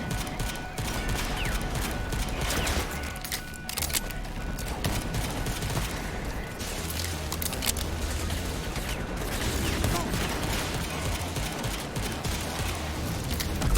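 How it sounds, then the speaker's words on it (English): Rapid gunfire and clattering weapon noise from the video game Rage 2 run continuously under a dense, loud mix of game sounds throughout. "Oh, sure, you're gonna get them all with that pistol."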